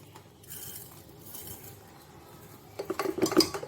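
Ingredients are tipped into a metal pressure cooker for a Diwali Annakut dish. Soft rustling gives way to a burst of loud metallic clanks and scrapes from the utensil and pot near the end.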